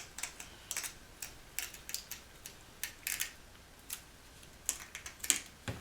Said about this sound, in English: use a pair of scissors that don't have to remain sharp because the carbon fiber will dull them